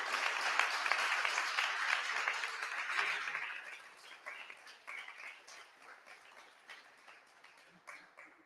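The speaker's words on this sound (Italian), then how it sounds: "Un applauso ai 30 ragazzi della Scherma Dolomiti" Audience applause rises loud and dense at a festival welcoming young fencers from a fencing club, then thins into scattered claps as it fades.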